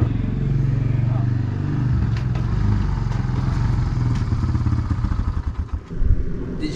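A four-wheeler ATV engine runs loud and close with a steady low rumble, then grows choppy and uneven as it revs toward the end.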